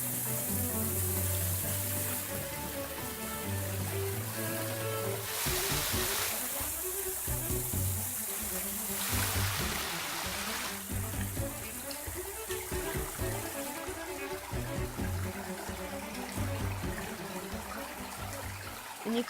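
Vyatich waterfall, a 2.5 m cascade falling over three steps, gives a steady broadband rush of water that carries on without a break. Music and other sounds weave through it.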